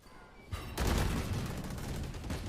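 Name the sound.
gunfire in the Valorant video game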